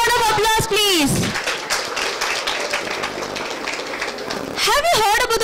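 An audience applauds after a children's stage performance: a steady, dense wash of clapping lasts several seconds, with a voice speaking just before it starts and again as it fades.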